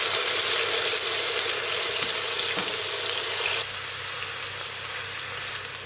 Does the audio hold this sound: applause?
no